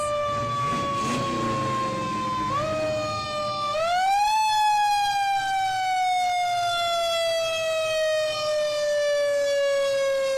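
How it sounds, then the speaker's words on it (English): A volunteer fire department's fire engine sounds its siren while rolling in a Christmas parade on Main Street in Martinsburg. The loud wail holds steady, dips, then climbs and sweeps slowly downward, close by with no talk over it. "Beddington Volunteer Fire Department with the beautiful fire engine and, of course, the great sirens"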